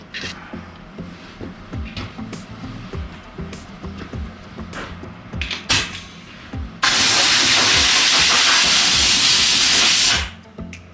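Compressed air blasts dust off the body of a 1949 Jeep Willys pickup during bodywork, a loud steady hiss lasting several seconds after a stretch of quieter shop handling noises and clicks.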